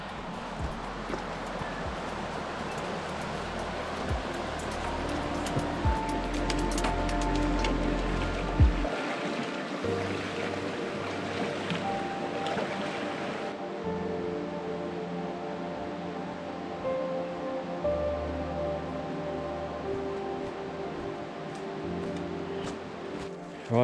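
A hiker wading across a river on a trail to the Pearse Resurgence, with steady rushing water and splashing close by, deep sloshes from footsteps in the current early on, continuous flow throughout with no talk.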